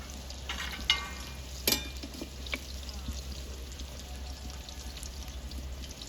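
Potato-stuffed bitter gourds fry in hot oil with a steady, soft sizzle, broken by a few sharp clicks and scrapes as they are turned in the pan.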